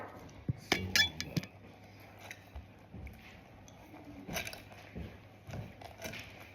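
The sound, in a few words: stirring chocolate chip cookie dough in a bowl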